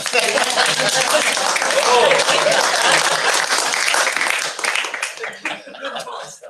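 Applause breaks out at a board meeting, dense clapping filling the room for about five seconds before thinning into scattered claps, with some chuckles and voices mixed in.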